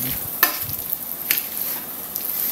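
Patty mixture frying and being stirred in a pan, a steady broadband sizzle with a few sharp scraping strokes from the spoon, close and moderately loud, with no voices.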